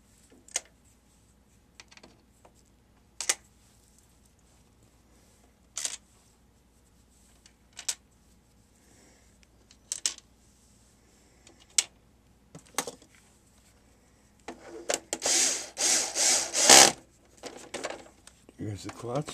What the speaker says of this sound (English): Get all the 6 screws in.